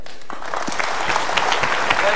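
A studio audience claps for a motivational talk show guest, applause swelling from quiet to steady, dense clapping that fills the room, with a voice over the start.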